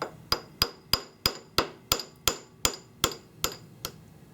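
Hammer taps on a milling machine cutter being bumped down after its three screws are loosened: about eleven sharp metallic knocks at a steady, unhurried rhythm, close and clear, with no talking.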